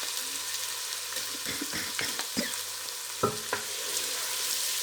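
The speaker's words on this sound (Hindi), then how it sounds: "अदरक लहसुन का पेस्ट 1 मिनट इसको भूनेंगे।" Ginger garlic paste fries in a pan for aloo keema, a steady close sizzle punctuated by several soft scraping and tapping stirs.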